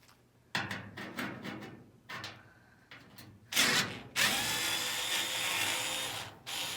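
A power drill backs sheet metal screws out of a Whirlpool Cabrio dryer cabinet: several short whirring bursts, then a louder, longer continuous run of the drill close by.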